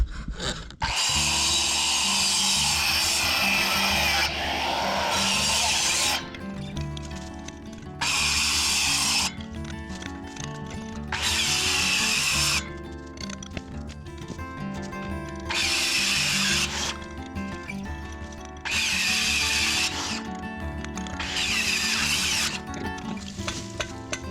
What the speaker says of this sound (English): I'm gonna move to the corded version of my radial saw and hopefully power right through this.